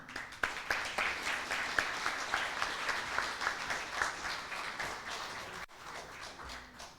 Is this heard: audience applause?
yes